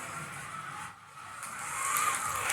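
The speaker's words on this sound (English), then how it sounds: "if you want to do some drifting with the current tyres, this is the car to do it with" A Carrera Lamborghini Huracan Performante drifts on a track, its tyres giving a hissing, squealing skid that dips briefly, then builds louder and brighter toward the end of the short burst.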